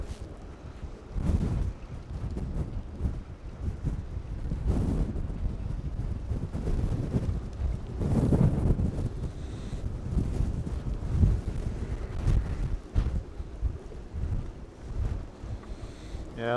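Wind buffets a boat moored at a quay in stormy weather, a steady low roar with gusts swelling and fading throughout, loud and close with rumbling microphone buffeting.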